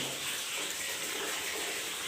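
Water pours steadily into a bucket at a home, a continuous close rushing and splashing with no pauses and no voices over it.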